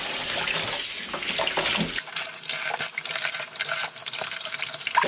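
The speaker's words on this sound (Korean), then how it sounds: "또 찬물로 또 깨끗이 씻어 주세요." Cold tap water runs steadily over raw chicken pieces being rinsed in a kitchen sink, for Korean spicy braised chicken, a loud, continuous splashing stream with no talking.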